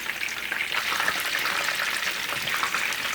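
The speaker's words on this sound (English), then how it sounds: "so let's fry the shit out of them basically" Flour-coated chicken pieces deep-sizzle in hot oil in a pan, a dense, steady crackling hiss that stays loud and close throughout with no voices over it.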